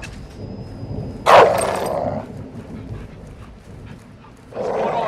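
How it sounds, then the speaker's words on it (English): A dog in Call of Duty Modern Warfare 2 (2022) gives a sharp bark followed by a whimper, then a second bark after a short pause, all over a low ambient game hum. "It's a dog from the bedroom."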